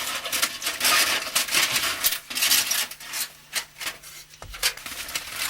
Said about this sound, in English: Next we'll take a pair of scissors and cut the foil on our line.